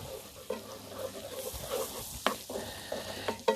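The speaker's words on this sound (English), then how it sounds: "once we have that flour blended in with that bacon grease and onion" Flour being stirred into bacon grease and onion in a pan for hot German potato salad: a soft sizzle under scraping spoon strokes, with a few sharper knocks against the pan.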